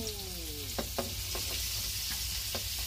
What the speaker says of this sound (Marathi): फ्राय मासे असे पलटूया